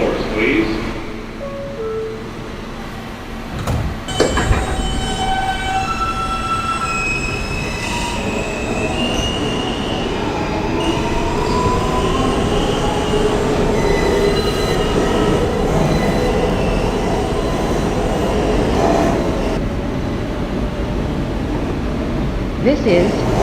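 A Coney Island–bound New York subway F local train rolls along with a constant loud rumble while its wheels screech and squeal in long rising and falling tones, heard from inside the car.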